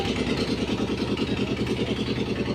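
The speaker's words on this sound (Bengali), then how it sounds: "নৌকা আমাদের স্টার্ট হয়ে গেছে" A boat's engine runs steadily as the boat pulls away from shore, a close, even mid-pitched throb with a quick regular pulse and no voices over it.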